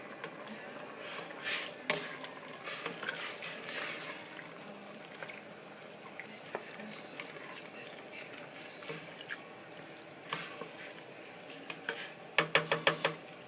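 Potatoes being stirred in a pan for a ground turkey omelette, with soft scraping, light wet shuffling and scattered clinks of a utensil against the pan, ending in a quick burst of clatter.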